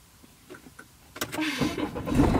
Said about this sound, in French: Faut que tu lances le moteur.